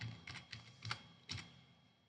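Faint key presses on a computer keyboard as a word is entered into a spreadsheet, five or six soft, quick clicks in a short burst, heard alone without talk.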